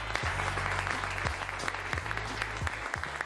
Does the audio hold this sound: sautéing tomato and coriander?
no